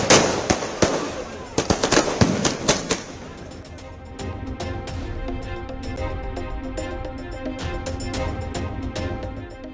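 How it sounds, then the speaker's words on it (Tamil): Firecrackers burst in a rapid, loud crackling string during a statewide NDA alliance celebration, then give way to a steady, busy crowd-and-drum din that continues to the end. "மாநிலம் முழுவதும் மேலதாளங்கள் முழங்க பட்டாசு வெடித்து என்டிஏ கூட்டணி கொண்டாட்டம்."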